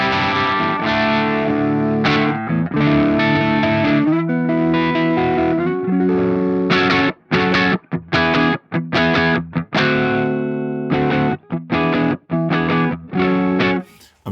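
An electric guitar runs through the ML Sound Lab ROOTS amp plugin with the noise gate off and plays loud, distorted, chorus-tinged chords. Sustained strums come first, then choppy stabs separated by brief gaps.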